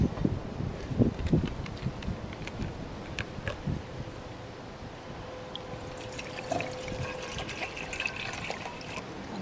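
Water being poured into a metal canteen cup for cooking tortellini outdoors, a soft irregular trickle and splash with faint clinks over light wind.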